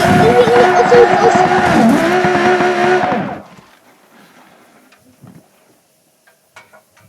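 A car engine roars loudly with tire squeal for about three seconds, then cuts off abruptly, leaving near silence broken by a few faint thumps and clicks.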